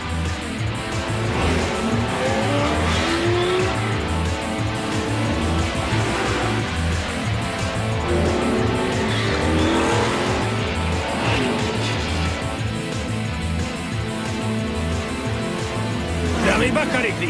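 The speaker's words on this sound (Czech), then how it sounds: "Slyším motory. Závod už začal." NASCAR race car engines roar and drone continuously, pitches rising and falling as cars speed by, with someone talking in Czech over the noise.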